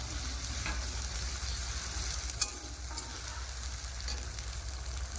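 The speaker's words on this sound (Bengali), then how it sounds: "এবার দিয়ে দেবো আদা রসুন ভাটা আদা রসুনটা ভালো করে করে নেবো যতক্ষণ না কাঁচা গন্ধটা যায়" Ginger garlic paste fries in a pan with a steady, close sizzle and bubbling crackle, and one sharp clink partway through as it is stirred; no talking.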